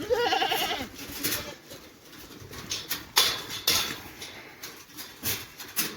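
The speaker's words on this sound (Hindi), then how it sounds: "अभी निकालते हैं बकरियों को। ये हमारी बकरी हैं" Goats on a farm bleat in a few scattered, moderately close calls amid faint rustling and background noise, with no voices.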